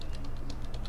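Rapid typing on a computer keyboard while writing Python code for a Raspberry Pi Pico, a quick steady run of close, soft key clicks with no talk.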